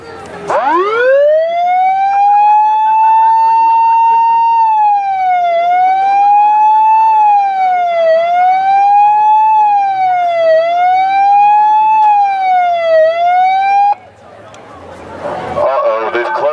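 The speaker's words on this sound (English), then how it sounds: "Can you hear my siren?" A loud wailing siren sounds up close, rising from a sweep into a sustained tone and then cycling in a slow up-and-down warble for about thirteen seconds before stopping abruptly, followed by a burst of crowd or street noise.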